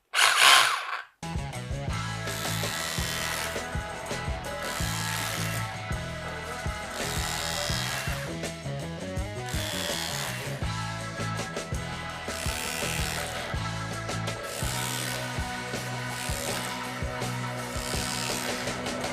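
A rotary hammer in hammer-only mode chips the edge off a concrete brick, pounding continuously, loud and close, with a rapid rattling impact rhythm and a brief pause near the start.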